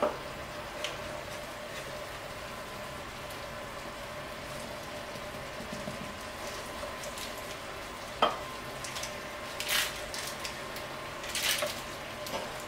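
Caramel cooking in a pan for a tarte tatin, stirred and scraped, with a soft steady bubbling sizzle throughout and a few brief sharper scrapes and clinks standing out over it.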